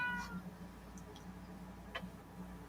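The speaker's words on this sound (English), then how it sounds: "That's our cat who wants food." A domestic cat meowing for food gives one short, faint meow near the start, followed by a soft tick and a brief click in a quiet indoor room with a low background hum.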